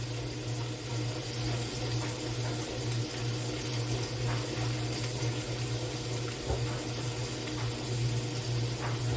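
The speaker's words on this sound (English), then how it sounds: "I'm going to drain that juice off." Juice drained off opened peppers, a steady, continuous trickling pour that runs unbroken over a low background hum.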